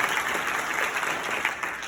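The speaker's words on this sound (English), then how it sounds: "can I please have a round of applause for them?" An audience at a local food conference breaks into a steady round of applause, dense clapping that holds at even strength throughout with no speech.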